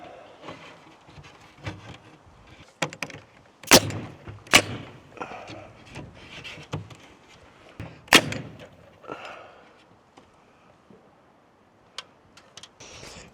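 Sharp pops from a nail gun during trim carpentry with 1x4 wood trim, several separate loud shots scattered among quieter knocks and handling noises, spaced irregularly across the scene.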